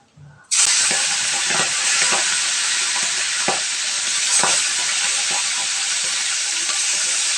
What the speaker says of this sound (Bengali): বন্ধুরা, তেলটা খুব গরম হয়ে গেছে, মাছগুলো আমি দিয়ে দিচ্ছি।